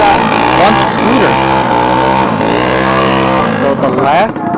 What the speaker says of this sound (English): Actually, we got one scooter.